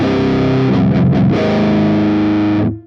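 Heavily distorted electric guitar chords through an amp with a distortion pedal, voiced like a Mesa Mark IV, ring out loud and sustained, with a brief choppy passage before a long held chord fades away.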